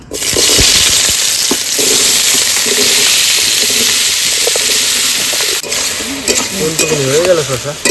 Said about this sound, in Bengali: এবার শসার তরকারিটা করবো শশাটা দিয়ে দেবো